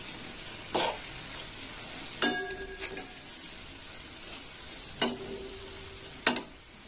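Potato fritters (bora) fry in hot oil for chaat aloo, giving a faint, steady sizzle with a few sharp metal clinks from a utensil scattered through it.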